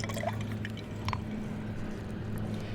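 Fresh ginger syrup, a homemade simple syrup, trickles into a cocktail in a few brief, soft splashes and drips over a steady low hum, with no talking.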